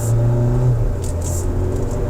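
2024 Kia Seltos SX turbo engine pulling at half throttle in sport mode, a steady loud interior drone with engine hum and whirring rising slightly, no talking.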